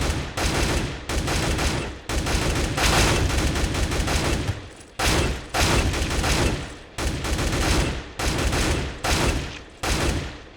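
Automatic rifle fire in Counter-Strike: Global Offensive comes in loud, rapid recoil sprays, several bursts of one to two seconds each separated by short gaps, with no talking.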